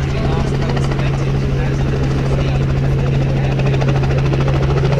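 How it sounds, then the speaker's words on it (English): A helicopter at an air show gives a loud, steady rotor roar with a constant droning hum. It stays close and unbroken throughout. "Looks like the near helicopter's Russia and the far side one's the UK."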